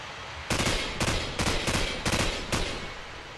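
Video game gunfire rings out in rapid automatic bursts, about six close, loud volleys in quick succession with no voices over them.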